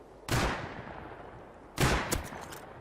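Two sharp, loud gunshots from the survival game Rust, close by and about a second and a half apart, each ending in a short ringing decay.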